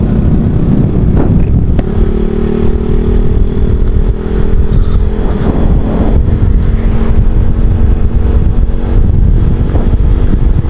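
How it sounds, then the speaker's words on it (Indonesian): A Yamaha Jupiter Z1 motorcycle fitted with a Tsukigi aftermarket exhaust drones steadily while being ridden, its engine note rising and settling under constant wind buffeting on the microphone, loud and continuous with no talking. "Jadi kita riding minggu ini nggak terlalu lama, hanya cuman ngetes knalpot aja."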